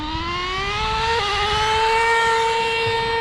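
HPI nitro RC cars, an RS4 Sport 3 and a Sport 2, race each other in a drag race. A high, whining engine note climbs steadily in pitch as they accelerate, loud and continuous, with a brief pitch drop partway through.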